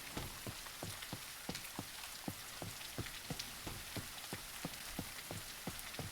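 Steady rain in the soulslike game Bleak Faith: Forsaken pattering on surfaces, with an evenly spaced series of soft thumps like footsteps running through it, quiet and continuous, no talking.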